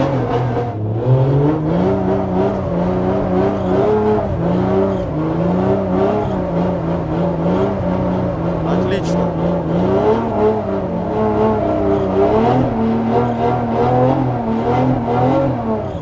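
A drift car in Japan revs hard under throttle, its engine note rising and falling in steady wavering pulses for the whole stretch, loud and close, with a brief spoken word of praise over it.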